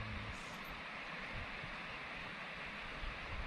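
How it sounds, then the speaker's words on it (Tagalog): Stream water flows under a bridge at a riverside crossing in a theme park in Anji, China, making a continuous broadband rush that stays faint and even throughout with no voices. "Nakaka-relax yung tunog ng tubig."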